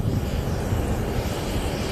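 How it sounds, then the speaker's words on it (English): Continuous engine roar of a large helicopter on an airfield, steady and fairly loud throughout with broad rumbling texture and some wind noise, no talk. "Got a big helicopter here on the field."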